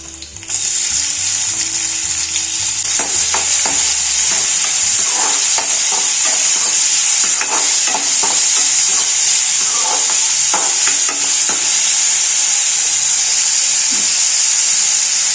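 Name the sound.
chopped onions frying in a pan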